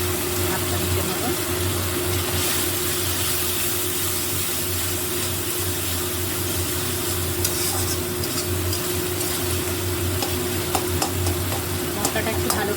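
Spice masala for a mixed-vegetable dal is stir-fried in a pan with a dense, constant sizzle and spatula scraping, plus a low steady hum underneath and a few sharper clinks near the end.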